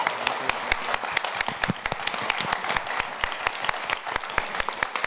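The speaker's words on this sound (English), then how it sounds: "Please give a round of applause to our panelists." A modest audience at the NAMM 2024 modular synthesizer panel claps for the panelists, with sharp individual claps standing out in a steady, close round of applause.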